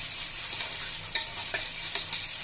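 Onions sizzling in mustard oil in a wok, a continuous near hiss with a few sharp stirring clinks and crackle bursts, then cutting off abruptly at the end.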